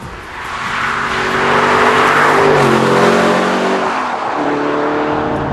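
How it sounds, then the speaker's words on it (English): A British Aston Martin DB9 Sport Pack with a V12 engine roars loudly and steadily, its revving note rising and shifting as it accelerates, close and alone with no talking. "And the Aston Martin DB9 Sport Pack. British, V12,"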